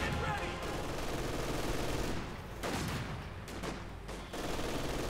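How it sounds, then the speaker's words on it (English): Gunfire and mortar blasts from the game Company of Heroes 2 rattle in bursts of rapid shots and booms, moderately loud, with brief lulls between the volleys. "Mortars there continuing to blast away"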